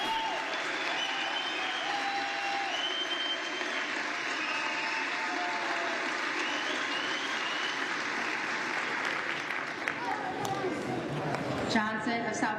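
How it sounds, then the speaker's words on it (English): Members of Congress applaud during a House floor vote for Speaker, a steady wash of clapping that runs through most of the clip, with people talking over it and a brief louder burst near the end. "Now we're going to applaud for you because you voted for yourself"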